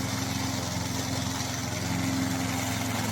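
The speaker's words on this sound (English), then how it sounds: "It uses a 16 HP strong power gasoline engine" A crawler-tracked remote-controlled lawn mower with a 16 HP gasoline engine runs at a steady, droning pitch, a continuous mid-distance engine hum with no voices over it.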